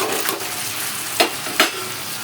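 Onion, garlic and green chili fry in a pan for spicy egg poriyal, with a steady soft sizzle and a few sharper stirring scrapes, close by and without speech.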